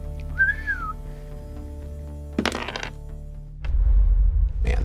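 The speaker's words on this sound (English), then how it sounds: "I'm gonna whistle for it again." A single short rising-falling human whistle calling a falcon, fairly clear, followed by a crack, a thump and a low rumble in a mine setting.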